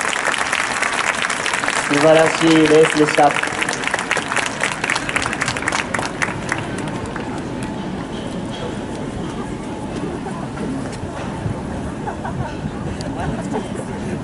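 Spectators at a Chiba prefectural high school athletics meet applaud the runners after the boys' 200 m final, a dense burst of clapping that swells early and then thins, with an announcer talking over it.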